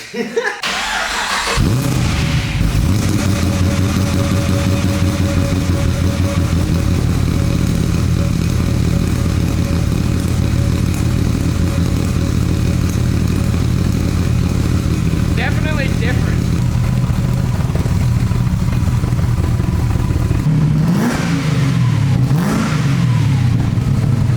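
A motorcycle engine with a custom exhaust fires up and settles into a loud, throaty idle, with a few sharp revs rising and falling near the end.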